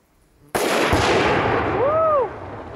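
A Tannerite target set on a beaver dam detonates in one sharp, loud blast that stays loud with a long rumbling tail. A faint voice precedes it and a brief whistling whine rises and falls near the end.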